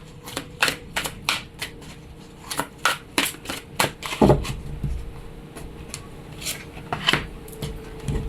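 Tarot cards are shuffled by hand in quick, crisp riffling bursts, close and clear, with short pauses between rapid flurries and one heavier thump midway.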